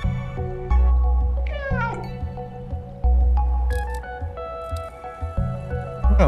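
A cat meows in the video game Stray, with several short, tonal mews over game music and ambient background sounds, fairly close and clear.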